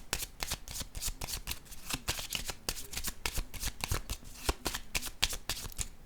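Tarot cards being shuffled in a rapid, continuous riffle of crisp slaps and flutters, close and steady throughout with no voice.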